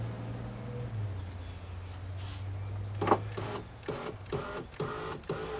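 The power window motor in a 2003 BMW 525i door with a replaced regulator hums steadily as it raises the glass, then stops, followed by a series of sharp clicks and knocks from the door.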